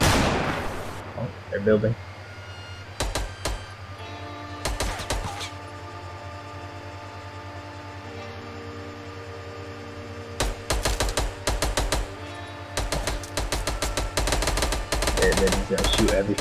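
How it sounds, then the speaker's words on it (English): Rapid bursts of video game gunfire, loud and close, come in repeated volleys with short gaps between them, while people talk excitedly over the shooting. "Now they're just shooting at each other."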